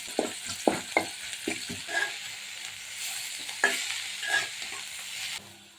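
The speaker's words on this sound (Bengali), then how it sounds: "পেঁয়াজ দিয়ে দিলাম" Onions fry in a cooking pot, a soft steady sizzle broken by several sharp scraping knocks of a spoon stirring against the pot, close by and without talk.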